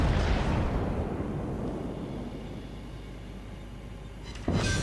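The battleship Georgia fires a salvo in World of Warships, a heavy booming roar that starts loud and decays into a long rumbling tail, followed near the end by a sudden new burst.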